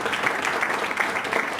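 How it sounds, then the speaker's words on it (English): An audience at a professional talk claps steadily to welcome a speaker, a brief, even burst of applause heard from within the room. "let's give Brandon Chestnutt a big round of applause."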